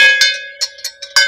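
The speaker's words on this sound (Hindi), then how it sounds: "तो दोस्तों देखो मैं घंटी बजा रहा हूँ" A hand-rung temple bell on the route to the Vaishno Devi shrine gives several bright, ringing metallic strikes in quick, uneven succession close by, each one sustaining over the last.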